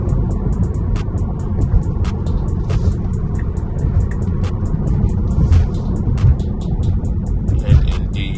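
A Tesla Model 3 Long Range pulls away through city traffic, giving a steady, fairly loud rush of road and tyre noise and cabin hum with a faint whine that builds slightly, and no talking.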